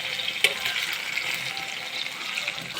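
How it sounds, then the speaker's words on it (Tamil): Mustard seeds spluttering in hot oil for a South Indian brinjal gravy: a soft, continuous sizzle with a sharp pop near the start and scattered light crackles, fairly quiet and without talk. "கடுகு பொரிய விடுங்க."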